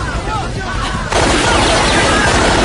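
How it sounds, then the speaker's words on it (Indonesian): Gunfire from fleeing enemies shooting at police in a film scene, a dense burst of shots with a sharp jump in loudness midway, sustained and noisy, with a faint voice underneath. "musuh pun masih mencoba untuk lari dengan menembaki beberapa polisi"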